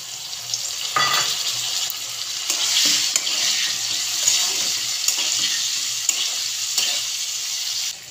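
Potatoes fry in a pan with a steady broadband sizzle throughout, with a few soft stirring scrapes breaking through, close and fairly loud with no voices.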